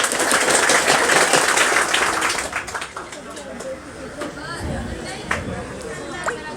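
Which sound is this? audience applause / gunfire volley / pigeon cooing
audience applause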